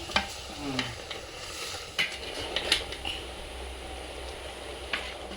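Mutton pieces set on to cook in a pan, giving a steady close sizzle with occasional stirring scrapes and light clinks throughout, no talking.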